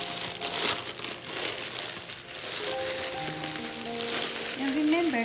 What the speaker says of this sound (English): So we're going to now hide the cellophane paper.